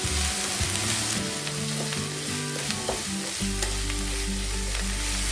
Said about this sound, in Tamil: லைட்டாக வெங்காயம் இதெல்லாம் வதங்கினாலே போதும்